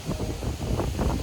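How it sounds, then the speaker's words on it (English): Steady, low wind buffeting the microphone on the deck of the cruise ship Freedom of the Seas after dark, a continuous rumbling gusty roar with no voices. "It's a bit windy up here."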